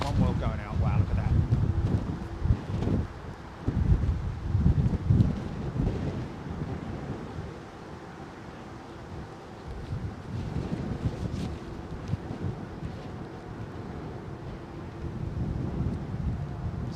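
Strong wind buffets the microphone beside the runways at London Heathrow airport, a rumbling, gusty roar that rises and falls, with a person speaking briefly near the start.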